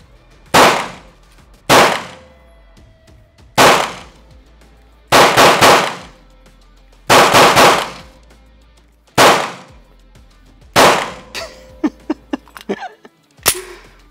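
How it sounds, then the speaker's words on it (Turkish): A Canik Rival competition pistol fires at a shooting range, with about eight loud, sharp reports at uneven intervals followed by a few lighter clinks and metallic clatter. "Johnny'in son tabancası Rival."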